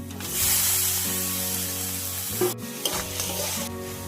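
Duck meat is dropped into fried spice masala, bursting into a loud, hissing sizzle that settles, broken by a few clattering stirs of the utensil in the pan.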